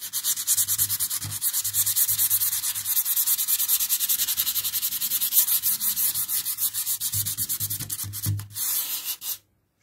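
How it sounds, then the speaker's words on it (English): Hand sanding of wooden moulding on French doors, a steady scratchy rubbing that runs continuously up close, with rhythmic back-and-forth strokes and no talk. "that's how I sand the molding, nice and smooth"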